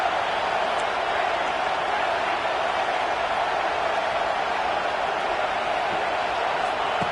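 A football stadium crowd roars on third down, a constant loud wash of massed voices and noise holding at one level.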